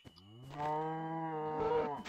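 A cow moos in Minecraft, one long drawn-out low moo that swells and holds, loud and close, with no talk over it.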